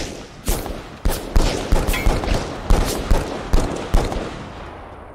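Semi-automatic gunfire in the western-themed battle royale game Grit: a steady run of about a dozen loud, punchy shots at a brisk rhythm, close up and alone.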